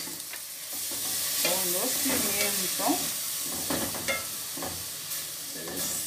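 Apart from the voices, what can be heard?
tomatoes and pickled onion sizzling while sautéing in a pan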